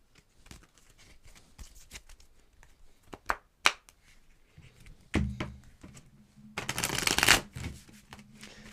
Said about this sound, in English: we're going to just mix the cards up